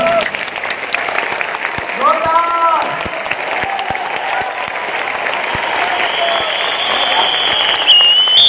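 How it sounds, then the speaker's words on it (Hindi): A large Hindi-speaking seminar audience claps with both hands raised, a loud sustained wash of applause with scattered cheers, while a voice talks over the start of it. "आप लोग अगर दोनों हाथ ऊपर करके तालियां बजाएंगे"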